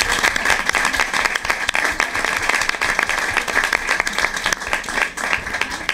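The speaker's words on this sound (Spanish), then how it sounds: "Pero yo pido también otro aplauso para Pilar y Juan Carlos" An audience at a press conference for a cancer charity's new board in Marbella applauds loudly and steadily, a close, dense burst of many clapping hands.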